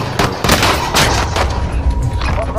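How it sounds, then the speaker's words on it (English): Gunfire in the video game Call of Duty Warzone: rapid bursts of shots crackle close and loud, overlapping in a dense fusillade across the whole moment. "There's a guy out here shooting."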